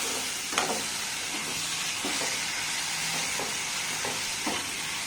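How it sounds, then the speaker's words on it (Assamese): Mashed potatoes frying in a pan for an Assamese curry, giving a steady loud hiss with soft scraping stirs now and then, no voices. "আলুখিনি দি এতিয়া মই আকৌ অকণমান সময় 1 বা 2 মিনিট সময় এনেদৰে ভাজি ল'ম"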